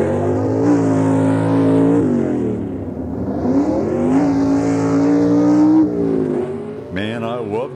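Loud 1960s super stock drag race cars, the Tasca Ford and a Ford Mustang, roar continuously at a match race, engines rising and falling in pitch as they rev and pull away, with a harsh burst near the end.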